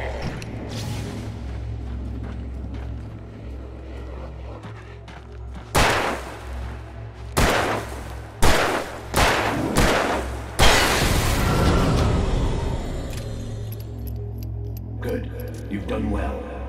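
Several loud gunshots ring out in the video game Alan Wake Remastered, a run of sharp booming blasts in quick succession over a low droning background, with speech present in the clip.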